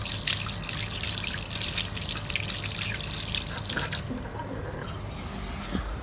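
Hands washed under a running kitchen tap, with a steady trickle and splashing water that eases off near the end, close by, with no talking.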